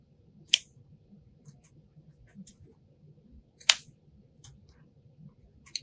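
Scissors make two crisp, close snips on the ribbon tails of a fall grapevine pumpkin wreath, with a few fainter clicks between them over a quiet room background.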